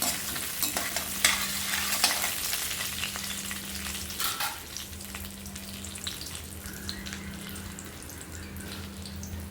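Pirandai and black urad dal roast in a pan with a continuous dry sizzle and frequent scraping stirs, close, with a low steady hum underneath throughout.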